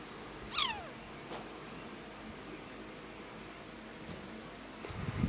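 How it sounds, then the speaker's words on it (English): A cat gives a single short, faint meow early on, followed by a steady hiss of background noise and a few soft rustles. "Such a gorgeous cat."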